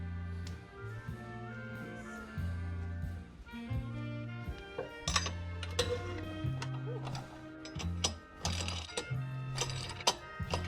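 Hand-tightening bolts on a 1929 Ford Model A transmission gives repeated close mechanical clicks and ratcheting in short bursts, quiet and alone.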